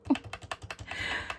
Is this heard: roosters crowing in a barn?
no